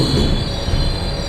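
A train stands at a small rural station, its wheels and cars giving a loud, continuous metallic rumble with a high steady squeal over it.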